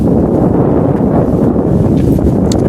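Steady, blustery wind roaring across the microphone on an evening safari near a dam, a continuous low rumble with no pauses.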